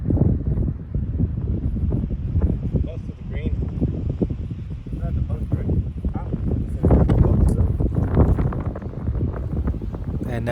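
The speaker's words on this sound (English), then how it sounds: "this wind is picking up" Strong gusting wind buffets the microphone on a golf course, a loud rumbling roar that swells and dips throughout, with a voice speaking under it.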